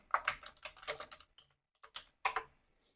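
Bursts of computer keyboard typing, quick clustered key clicks in three or four runs with short pauses between, close and fairly clear with no talking.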